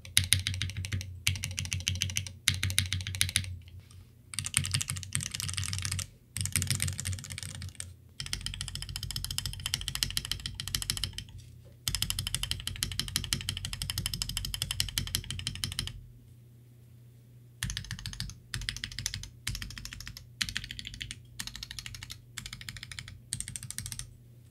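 Bursts of rapid clacky typing on a modified GK64 mechanical keyboard, close and steady, broken by short pauses and one longer gap, with no voices.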